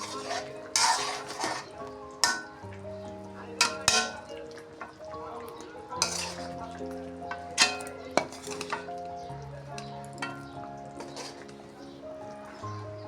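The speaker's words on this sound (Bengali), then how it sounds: "তা আমি কষাই নেব ভালোভাবে।" Fish being sautéed in spice masala in a pan, with scraping and clinking of a utensil against the metal pan in uneven strokes over a soft background sizzle, close and fairly quiet.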